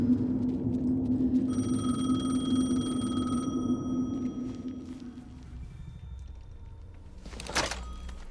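A telephone rings repeatedly in the video game Alan Wake 2, a steady electronic tone over a low ambient drone that stops midway, followed by a brief bright burst near the end.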